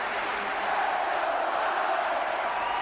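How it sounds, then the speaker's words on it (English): A hockey arena crowd at a Fort Wayne Komets game against the Toledo Walleye, a dense, sustained roar of fans cheering together, steady and loud throughout with no distinct voices. "Fans in chorus cheering on their team."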